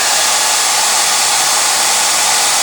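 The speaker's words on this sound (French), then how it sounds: "Et avec le sèche-cheveux," A hair dryer blows steadily and loud at close range, melting slivers of Babybel cheese wax onto a candle, a constant airy roar with no voices.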